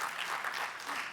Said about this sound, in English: So Lola, give her a round of applause.